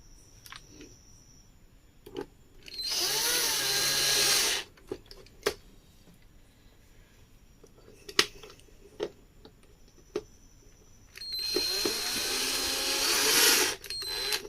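A power screwdriver drives screws into a 24-inch LED TV during a power supply repair: two loud, sustained whirring bursts separated by a quiet stretch with scattered clicks and handling knocks, and no talking.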